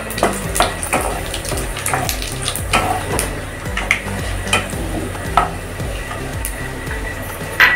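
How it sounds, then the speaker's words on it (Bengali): Bay leaf, four dried red chillies, whole cumin and panch phoron hit hot oil for a vegetarian moong dal with jackfruit, giving a steady close sizzle and crackle with scattered sharp pops and stirring clatter throughout, no talking. "তো বন্ধুরা প্রথমে আমি তেলের মধ্যে কিছু ফোড়ন দিয়ে দেব।"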